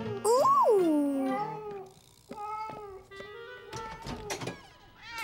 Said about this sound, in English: Silly cat.